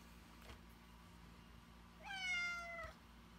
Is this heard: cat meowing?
yes